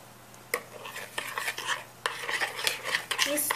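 A spoon stirs sugar and yeast in a bowl for sweet braided bread dough, giving repeated close scraping and clinking strokes against the bowl with no voices.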